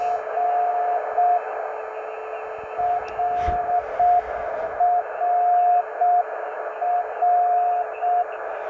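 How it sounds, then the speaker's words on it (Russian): A steady carrier tone from a 7 MHz radio beacon, received about 40-45 km away on a small SDR shortwave transceiver in the field, is keyed on and off in repeating morse-like dashes over hiss and static, with a brief crackle burst. "И вот на 40-45 километров удается принять сигнал этого маячка."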